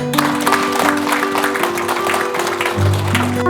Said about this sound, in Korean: 도정에 대해 설명해 주신 김용관 정책기획관께 다시 한번 박수 부탁드립니다